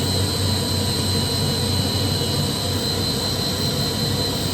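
A KAESER screw air compressor runs at working temperature, giving off a steady, loud broadband roar with a constant hiss and a fixed high whine, unbroken for the whole stretch.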